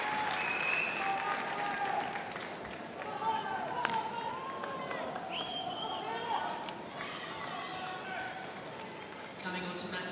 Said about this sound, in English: Big cheers for him